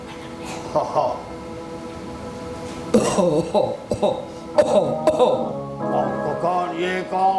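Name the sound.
someone coughing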